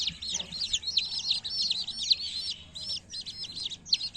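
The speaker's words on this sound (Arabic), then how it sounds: "جبت ذني الصيصان كتاكيت" Rapid high-pitched peeping of one- or two-day-old chicks, a busy continuous chorus of short chirps close by, with faint low background rumble.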